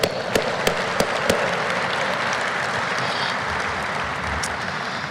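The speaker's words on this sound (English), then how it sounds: "please round of applause for them" Guests at a Navy retirement ceremony applaud the ceremony and protocol teams with loud, sustained clapping, a few sharp louder claps standing out near the start.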